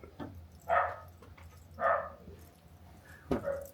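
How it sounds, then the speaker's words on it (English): Dog barking and howling somewhere nearby in a workshop: three drawn-out, moderately loud howling barks spaced about a second apart, with a sharper yelp near the end over low background hum. "I don't know why the dog's barking."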